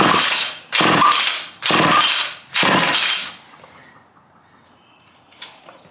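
A seized chainsaw engine being cranked over: four loud, harsh churning bursts in quick succession, each under a second long, then quiet with only a faint distant noise.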